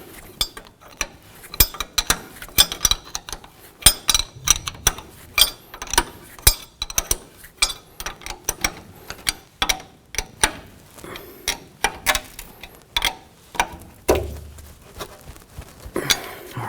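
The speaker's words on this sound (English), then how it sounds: "Using our 17mm wrench" 17 mm wrench snugging the front axle bolts on a 2003–2009 Toyota 4Runner: steady, close metallic clicks and taps repeating in quick rhythm over a long stretch.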